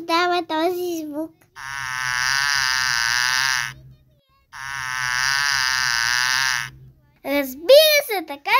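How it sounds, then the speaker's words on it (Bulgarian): Bee buzzing for a children's animal sounds segment: two loud, sustained buzzy drones of a few seconds each, separated by a short pause, with a voice speaking just before and after. "Разбира се, така са пчелите."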